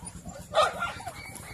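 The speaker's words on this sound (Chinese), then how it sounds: "这边是小狗，这四十多天小狗。" Puppies about forty days old at a large dog breeding farm in northeast China let out a short, sharp yelp or whine over low background noise, with quieter yips around it.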